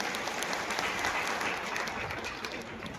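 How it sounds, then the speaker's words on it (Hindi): An audience at a public speech claps in a sustained burst of applause that holds steady, then eases slightly toward the end, with faint crowd noise mixed in. "जोरदार ताली बजाओ सभी के लिए।"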